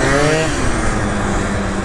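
A Yamaha Zuma 70cc BWS scooter engine is held at high revs during slow wheelies outdoors. The loud, close, buzzing whine shifts pitch as the throttle changes.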